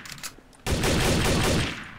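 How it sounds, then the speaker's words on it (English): Gunfire in the video game Garry's Mod, Trouble in Terrorist Town mode, starts abruptly after a quiet moment as a dense, rapid burst of shots that continues loudly to the end. "I believe I'm hearing some gunfire in the distance."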